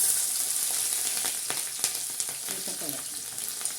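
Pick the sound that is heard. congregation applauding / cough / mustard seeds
mustard seeds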